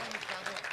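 Quiet clapping from an audience at a Hindi comedy poetry gathering, a short burst heard faintly and somewhat distant.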